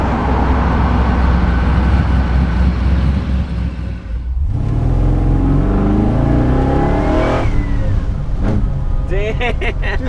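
LS-swapped custom Chevy Bel Air resto-mod, an engine revving hard and pulling loudly with a broad, continuous roar; it drops off briefly midway, then surges again with rising tone, with some talk alongside.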